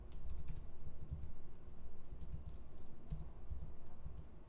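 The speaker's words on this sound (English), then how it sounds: "I want to be good at typing." Rapid typing on a computer keyboard during coding work, a dense stream of soft clicks with a steady rhythm, close and fairly quiet, with no talking.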